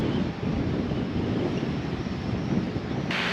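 Steady gusting wind buffets the microphone by the sea, a constant broadband rush with low rumble, no voices heard.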